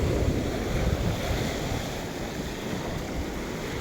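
Sea waves wash onto the shore at high tide in a continuous loud rush, with heavy wind buffeting the microphone throughout.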